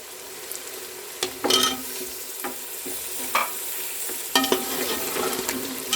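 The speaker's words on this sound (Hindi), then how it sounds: "आलू और चिकन को हमने अच्छी तरह भून लिया है।" Potatoes and chicken fry in a pot for aloo gosht, giving a steady soft sizzle broken by several louder stirring scrapes and clatters, close up with no talking.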